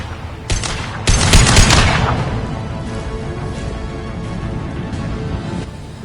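Video game assault rifle fire: a short burst, then a louder sustained volley of shots that fades into a lingering rumble and scattered distant echoes, with no talking.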